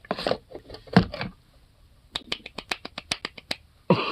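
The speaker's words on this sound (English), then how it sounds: "Golf clap for you, sir." A slow, sparse golf clap: about a dozen light, crisp claps in a steady rhythm, heard close up. Some muffled movement and rubbing comes first, and a short burst of noise ends it.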